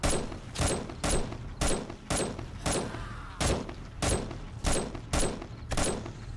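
Rapid, loud gunfire bursts in a first-person shooter video game, a dozen sharp shots in a steady rhythm, with no talking.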